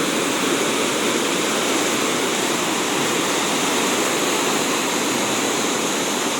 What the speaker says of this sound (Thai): น้ำมาอย่างแรงเลยครับผม มวลน้ำมหาศาลนะครับ